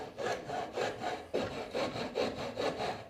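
A wood rasp files away splinters on a wood carving in about seven even back-and-forth rasping strokes, close and distinct with no talking.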